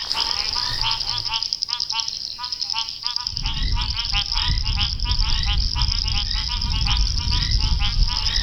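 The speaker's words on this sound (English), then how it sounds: "let's have a look if we can find some frogs, but they tend to go quiet as soon as you get close" Frogs call in a wet-season chorus at Londolozi game reserve: a dense, continuous layer of rapid pulsing croaks, loud and steady throughout. A low rumble joins underneath about a third of the way in.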